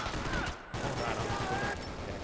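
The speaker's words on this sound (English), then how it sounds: "I'm using the SMG this time" Submachine gun fire in Max Payne 3 multiplayer, a dense run of rapid shots at steady loudness, with a brief gap partway through and faint talk underneath.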